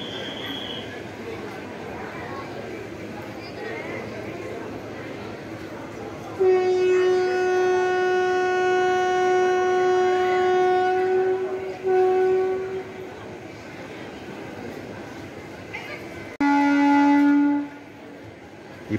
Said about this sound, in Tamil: இப்போ அந்த செகண்ட் பிளாட்ஃபார்ம்லேருந்து அந்த ட்ரெயின் கிளம்ப போகுது.